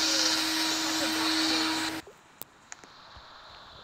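A vacuum cleaner inside a Roblox game hums loudly and steadily, then cuts off abruptly halfway through, leaving near-silence broken by a few faint clicks.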